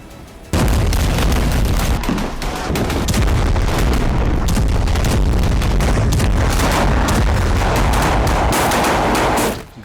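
Repeated explosions and blasts in a Gaza attack, a dense, loud barrage of booms and cracks that goes on almost without a break, with no talk.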